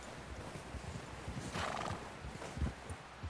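A horse whinnies while hooves clop rhythmically in Red Dead Redemption, all fairly quiet and distant-sounding.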